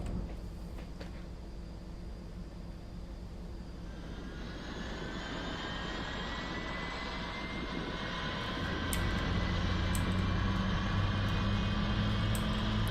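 A Boeing 777 engine starting in the X-Plane 11 flight simulator at Schiphol, a steady rumbling whine that slowly rises in pitch and grows louder, with a deeper roar joining near the end.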